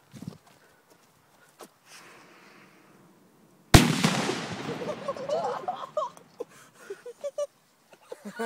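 A homemade firework goes off outdoors with one sudden loud bang, followed by a crackling, fizzing tail of smaller pops and hisses over the next few seconds; quiet shuffling comes before it.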